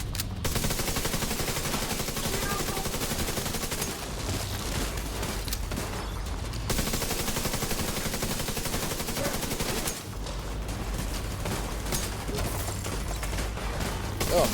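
Sustained automatic gunfire in The Division 2, loud, rapid bursts running nearly continuously with brief pauses between volleys.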